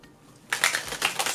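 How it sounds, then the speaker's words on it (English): Deck of tarot cards being shuffled, a quiet pause followed by a burst of crisp riffling and flapping card sounds with a few sharp clicks, close and fairly soft. "That was an ugly shuffle."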